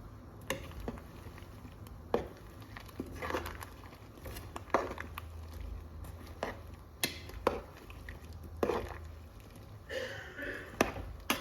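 Ginataang halo-halo ingredients are stirred in a full cooking pot, giving scattered soft taps, scrapes and knocks of utensil against the pot in an irregular rhythm, close and fairly quiet, with no talking.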